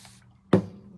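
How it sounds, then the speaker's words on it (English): A single quick squirt from a spray bottle, a sharp burst that fades fast against a quiet, humming background. "Spray it with water."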